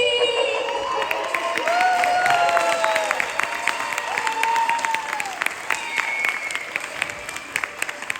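Audience applause from a crowd at a Ganesh Utsav skit performance, dense sustained clapping with some cheering voices throughout, steady and fairly loud over the whole stretch.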